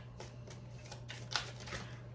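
Tarot cards being shuffled by hand, a soft continuous riffling and sliding of card stock with a steady low hum underneath, faint and close, with one slightly sharper flick partway through.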